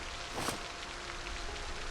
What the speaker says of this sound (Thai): ฝนตกด้วย